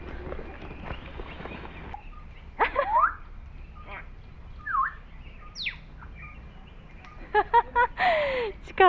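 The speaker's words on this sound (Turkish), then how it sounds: "Çıkartabildiği bütün sesleri çıkartıyor. Bu işte Uganda bayrağındaki turna kuşu." A grey crowned crane calling at a wildlife rescue centre in Uganda, giving a few loud, scattered honking and trumpeting notes over a steady background of other birds chirping, with a brief burst of rapid calls near the end.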